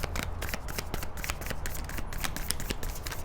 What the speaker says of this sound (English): it's very challenging for me to shuffle